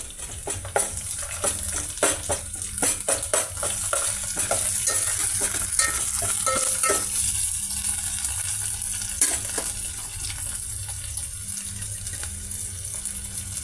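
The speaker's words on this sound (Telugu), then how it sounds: "ఆయిల్లో పచ్చిపప్పు, పెద్దలిపాయ pieces, green chilli pieces fry అవుతున్నాయండి" Onion, green chili and chana dal frying in oil, a steady close sizzle with scattered clinks and scraping stirs in the first half, settling into an even hiss.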